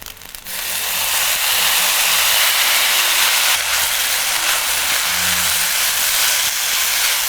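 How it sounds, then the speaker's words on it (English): Fried rice sizzling loudly and steadily in a hot pan as light soy sauce goes in, a constant hiss of steam and frying that rises sharply after a brief quiet start and stays dense throughout. "Now we're gonna season it with our light soy sauce."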